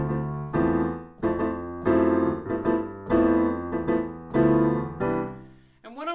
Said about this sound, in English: Quaver Triplets, which sound like this.